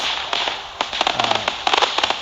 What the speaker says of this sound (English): And talking about the fireworks, you can hear those for quite a distance